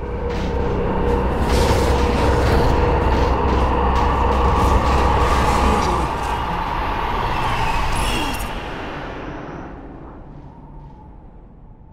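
A train speeding away, caught by an explosion's blast wave in the Half-Life 2 video game: a loud continuous rumbling roar with booming weight that holds, then fades out over the last few seconds.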